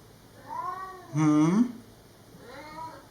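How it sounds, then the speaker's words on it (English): A whiny house cat gives two drawn-out meows with a louder, harsher wail between them, close and fairly clear over a quiet background. "Are you being a whiny kitty?"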